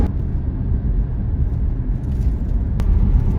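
A Tesla Model Y electric car cruising on a Kansas highway, heard from inside as a steady, loud low rumble of road and wind noise that holds constant throughout with no talking.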